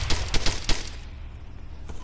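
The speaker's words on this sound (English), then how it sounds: "I honestly don't know what those explosions are" A quick run of four sharp, booming video game explosions in the first second, followed by a fading low rumble.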